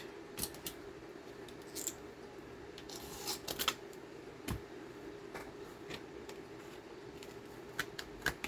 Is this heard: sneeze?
no